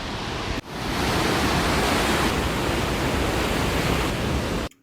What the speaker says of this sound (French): Magnifique cascade, comme vous avez pu l'entendre.